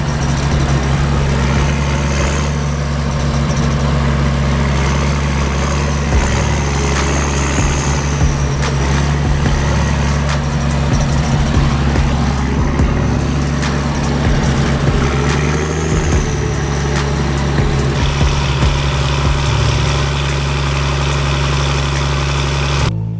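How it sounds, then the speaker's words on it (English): A forestry forwarder labors in soft mud, its heavy diesel engine droning and straining steadily with a deep low rumble while the wheels spin; loud, close and continuous throughout with no talk. "At first, the forwarder sinks deeper as it tries to gain traction. The wheels spin and the mud grips tight"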